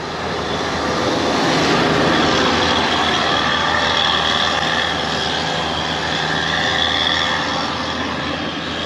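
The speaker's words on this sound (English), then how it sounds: "we'll let the tractor pass." A loud, steady engine rumble fills the whole stretch, a tractor heading out to spray crops droning close by as it passes along a country road.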